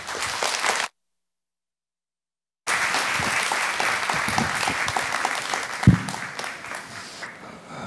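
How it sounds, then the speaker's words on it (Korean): Church congregation at a Wednesday worship service bursts into loud, sustained applause to welcome a pastor to the pulpit, the clapping cut off briefly by a silent gap before resuming at full strength. "여러분 나오실 때 기대하고 또 환영하는 마음으로 큰 박수로 맞이해 주시기 바랍니다"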